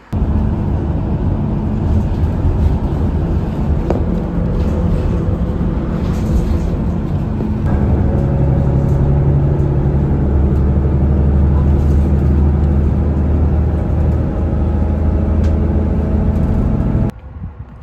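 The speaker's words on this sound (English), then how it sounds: "Alrighty, everybody, there's the bus." A bus engine drones loudly and steadily from inside the vehicle, a continuous low rumble with a slight shift in tone partway through, then cuts off abruptly near the end.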